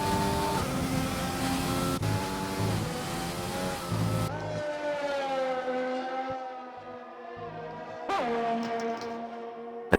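A Racing Point Formula One car's engine on track in Mexico, a high revving whine climbing and shifting through gears, loud and close, then easing off to a lower pitch before revving hard again.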